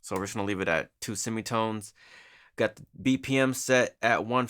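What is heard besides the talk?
No everyday noise stands out behind the speech.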